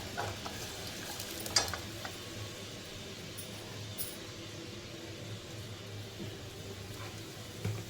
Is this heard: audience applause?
no